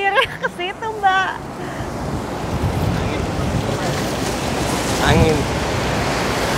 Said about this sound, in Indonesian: Angin.